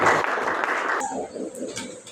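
Audience clapping in a classroom or workshop setting, a dense patter of many hands that fills the first second, then quickly thins to scattered claps under low murmuring.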